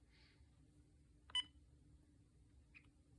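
Keypad tones sound as a number is entered on a Uniden EXS2010 cordless phone: a faint tone at the start, a brief, louder beep burst in the middle and a short tone near the end, each separate over quiet background hum.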